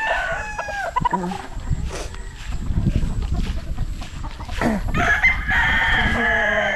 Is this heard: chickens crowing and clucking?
yes